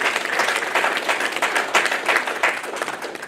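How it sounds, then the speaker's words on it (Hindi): A seated audience at an insurance business seminar gives the panelist a hearty round of clapping, many hands fairly close, sustained and even throughout with no speech over it. "तो जोरदार तालियां हो जाए हमारे पैनलिस्ट के लिए, जोरदार तालियां"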